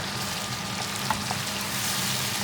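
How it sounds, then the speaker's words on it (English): Base gravy is stirred into a Madras curry frying in a pan, making a steady close bubbling sizzle with a faint scrape or two, with no talking. "I'm just going to stir that in"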